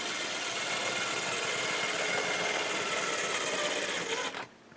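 A Bachmann model train locomotive hums steadily along its track, a constant faint motor whir that fades and stops near the end.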